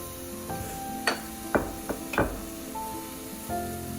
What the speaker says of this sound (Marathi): या ग्रेव्हीला तेल सुटत आहे